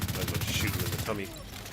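Rapid gunfire from The Division 2 fires in a steady burst over the first second, fairly close and loud, then gives way to softer game noise while a voice talks underneath.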